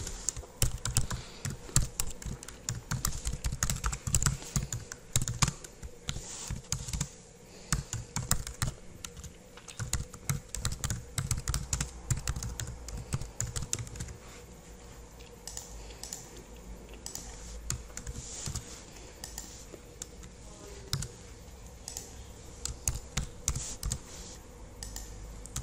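Keyboard typing on a computer while multiple-choice answer options are entered, a steady run of close, dense key clicks with short pauses throughout, no voices.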